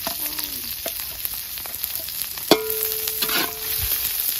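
Garlic and onions sautéing in a pan outdoors for goat kaldereta at a farm feast, a continuous close sizzle with scraping stirs and a sharp clank of a long ladle.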